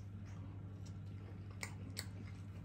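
Chewing a crunchy Chicago Town deep dish pepperoni mini pizza, soft close mastication over a low hum with two sharper crunches near the end, no talking.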